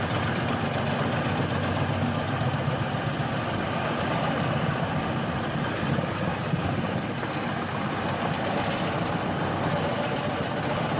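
An Albach Diamond 2000 wood chipper with its engine running, a steady, loud, droning mechanical hum with a fast throbbing pulse that continues unbroken throughout, no voices.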